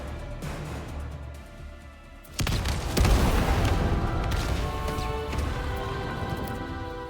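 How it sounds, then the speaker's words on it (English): An explosion in the video game Avatar: Frontiers of Pandora: a sudden loud, deep boom breaks in over quieter game ambience, then a sustained roaring rumble with crackling debris that stays loud and gradually settles. "I heard that explosion from here"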